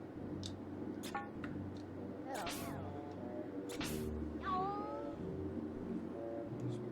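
Cat meows in the game Pac-Man 2: The New Adventures: several drawn-out, wavering cries and yowls over a steady low background hum, interspersed with brief sharp clicks, close and clear, no talk.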